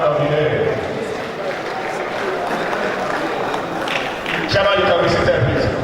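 Sustained applause from an audience at a Nigerian Institution of Surveyors ceremony, honouring the chairman of the day; a dense, steady wash of clapping runs the whole time, with a voice talking over it.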